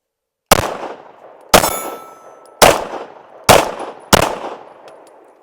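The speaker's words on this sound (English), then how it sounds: "Let's go ahead and try out the Caracal." Caracal Enhanced F pistol firing Federal HST 124 grain +P rounds, five sharp loud shots spaced about a second apart, each with a short ringing decay outdoors at a range.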